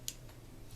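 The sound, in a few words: clicker on Langley Streamlite 310 fishing reel clicking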